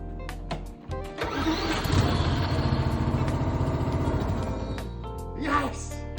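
A small lawn mower engine fed with starting fluid cranks, catches and runs in a loud, rough, fast-chattering burst for several seconds close by, then sputters, with a voice briefly heard near the end.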